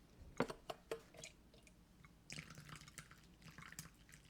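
Water drips and splashes in short bursts as frothy cream is rinsed off a tablecloth, with scattered soft wet squishes and faint trickling, quiet and close.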